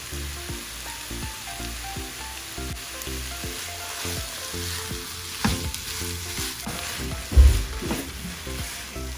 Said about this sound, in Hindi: और चम्मच चलाते रहना है इसके अंदर क्योंकि ये चिकन का कीमा है